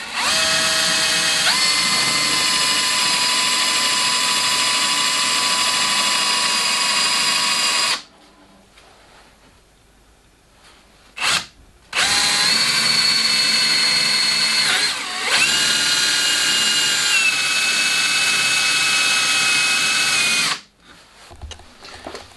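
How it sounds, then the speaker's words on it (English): A power drill bores 8mm holes into a wooden sled jig in long loud whining runs, stopping for quiet gaps between holes, with a brief burst and rising pitch changes as the bit cuts. "8mm holes were drilled here for the inserts."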